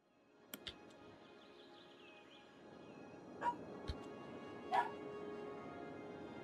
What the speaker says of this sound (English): I think you probably can hear my dog having a bark